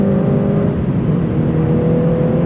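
A modified Mini car accelerating hard out of a corner on fresh tyres, a steady loud engine drone with a rising whine, close and continuous without pauses.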